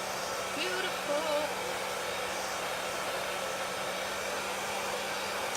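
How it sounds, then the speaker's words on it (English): A regular, ordinary hair dryer runs steadily nearby, a continuous even blowing whoosh with a low hum, unchanging throughout. "just a regular hair dryer, nothing fancy."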